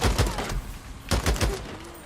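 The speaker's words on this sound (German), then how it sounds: "Und alles schieße, was sich bewegt." Gunfire in the open-world game Days Gone, as rapid clusters of close shots crack out in two main volleys with a short lull between them, loud and punchy.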